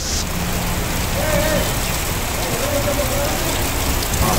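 Summer rain with strong wind in Tamil Nadu, a loud, dense, continuous downpour roar with steady gusty wash throughout, broadcast-style with faint voice undertones.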